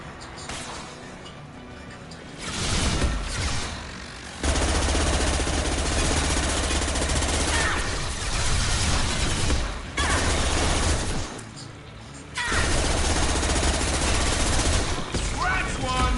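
Heavy sustained gunfire in Mass Effect Legendary Edition, dense automatic bursts roaring loud and close in long stretches with brief lulls between volleys.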